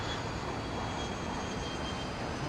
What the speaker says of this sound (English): Yeah, I can hear aeroplanes now.